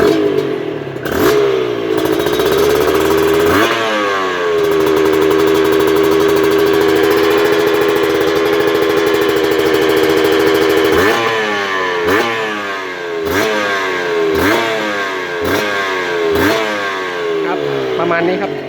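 A Honda NSR150RR sport motorcycle engine, freshly rebuilt and tuned, idles roughly, then is blipped repeatedly without high revs, each rev rising and falling in quick bursts, loud and close.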